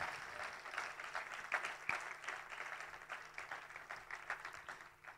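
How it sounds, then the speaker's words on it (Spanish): Church congregation breaks into applause during a sermon, a fairly quiet wash of many hands clapping with occasional sharper claps, gently declining. "Denle un aplauso al Señor."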